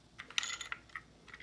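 A plastic tripod head being loosened, giving a few short, close clicks and ratcheting ticks in quick succession, with no talk.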